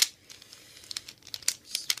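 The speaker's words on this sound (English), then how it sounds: "as I struggle on freaking turning the cube because can't corner cut at all" A Rubik's-style puzzle cube is twisted by hand, a string of sharp plastic clicks and scrapes in quick irregular bursts, close up.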